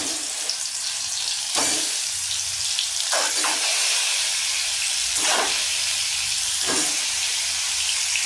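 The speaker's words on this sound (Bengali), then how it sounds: "এইভাবে আমের উপরটা একটু ভেজে নেব" Peeled ripe mango fries with panch phoron in a pan, a constant close hiss and sizzle punctuated by several sharp scraping stir strokes.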